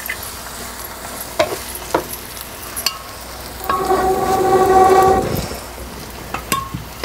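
Soybean masala being stirred in a hot pan, a spoon scraping and clinking through the spiced mixture in spurts, with a louder stretch of sizzling and scraping midway; no one speaks.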